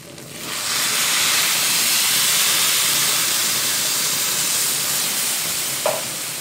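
Rice toasting in a pan on the stove before water and salt go in, giving a loud, steady broadband sizzle and hiss that runs without pause for several seconds, with a faint clink near the end.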